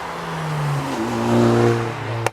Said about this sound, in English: When you put your foot down, you get greeted with a really nice turbo whistle.